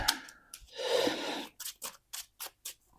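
Marvel Champions game cards are shuffled by hand, first as a long riffling swish, then as five short, crisp card slaps in a steady rhythm, close and quiet.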